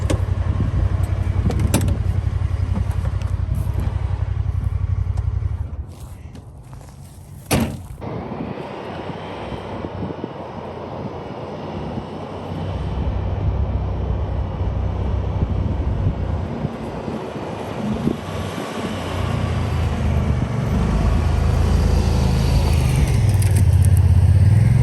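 A 2021 Honda Pioneer 1000-5 side-by-side climbs a hill, its engine a steady, loud low drone that dips briefly partway through, then builds again with strain toward the end, with no talking over it.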